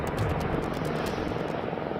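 Helicopter flying over the snowy Kedarnath valley during an avalanche, a steady broadband rotor and engine roar with faint rhythmic blade thumping, loud and continuous throughout.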